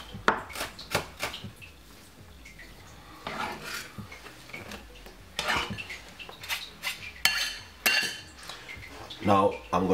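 Half a white onion being finely chopped with a knife on a board for a home chicken curry, giving irregular close knocks and scrapes with a few louder clatters, no talking.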